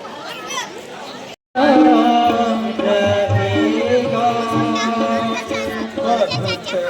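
A packed crowd at the Pithoragarh Ramlila fair keeps up a continuous murmur of overlapping voices. Nearby speakers are clearly heard above the babble, and the sound cuts out for a moment near the start.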